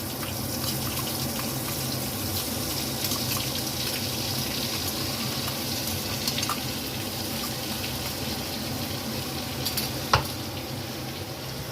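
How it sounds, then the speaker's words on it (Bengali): Ground spice paste fries in hot oil in a pan with a steady, even sizzling hiss, close and constant throughout, broken by a single sharp clink near the end. "এই যে পেস্ট বেটে রাখা মশলা, বেটে রাখা মশলাটা এর মধ্যে দিয়ে দিলাম"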